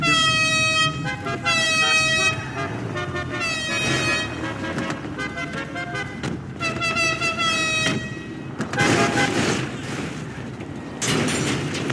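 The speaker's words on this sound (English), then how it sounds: "Stop honking." Car horns honk in the GTA video game, with loud repeated toots in quick bursts, some overlapping, amid game noise during a robbery mission.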